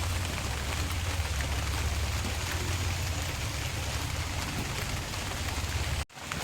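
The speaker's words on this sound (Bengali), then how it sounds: "যেহেতু বৃষ্টি পড়ছে।" Steady rain pours down without a break around a rural home, a dense, even hiss that stays close and constant, cut off abruptly near the end.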